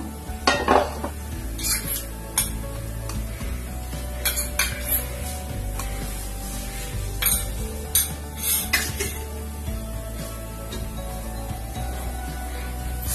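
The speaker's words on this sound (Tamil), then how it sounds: "இப்ப ரவையை வறுத்துருவோம்" Semolina (rava) being roasted in a pan for rava kesari, with repeated close metallic scrapes and clinks of a spoon against the pan over a faint steady sizzle and hum, no voices.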